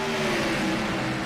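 Race cars accelerating at Daytona International Speedway during a PRA Revlimit Workshop Pro Series race, a loud, steady engine roar that builds as a rider gets on the throttle.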